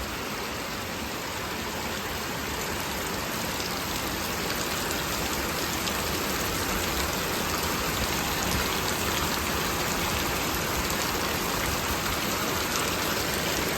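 Heavy, steady rush of rainwater pouring and streaming down a hillside in windless rain, a dense continuous roar with no pauses.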